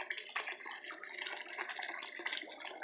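Water runs into a DIY backyard pond converted from an old pool, a soft, close burbling splash with fluttering, uneven bubbling that continues steadily at low volume, no voices heard.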